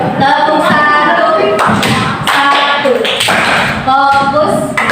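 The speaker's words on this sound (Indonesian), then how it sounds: "Tepuk satu." Classroom of students clapping together in a rhythmic clapping game, sharp synchronized claps in bursts, mixed with voices chanting and talking over the pattern.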